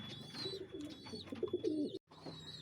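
Breeding-set pigeons in a burpan sandal colour coo softly nearby in short throaty bursts, with a brief dropout near the end and no talking.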